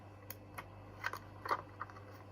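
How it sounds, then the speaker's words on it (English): Scissors cutting parchment paper, a few quiet crisp snips spaced irregularly over a faint steady hum, close and soft with no talking. "keep turning your parchment so that the scissors are always over the waist."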